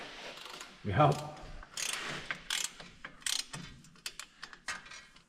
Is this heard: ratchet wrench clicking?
yes